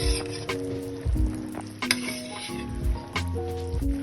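Tangra fish curry with potatoes and banana cooks in a pot, bubbling and sizzling steadily while a utensil scrapes and clinks against the pot in repeated strokes close by.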